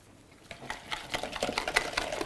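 Eggs seasoned with salt and pepper whisked briskly in a bowl, quick rapid clicking strokes close up, growing louder after the first half second.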